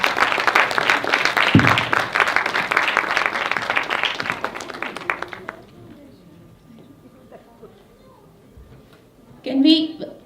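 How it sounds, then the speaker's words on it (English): An audience applauds award winners at the Singapore Women's Excellency Awards, a dense burst of many hands clapping that fades out after about five seconds, followed by quiet and a brief voice near the end. "Please give them a big round of applause."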